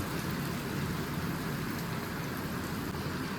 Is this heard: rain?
yes